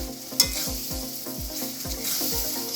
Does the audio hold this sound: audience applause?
no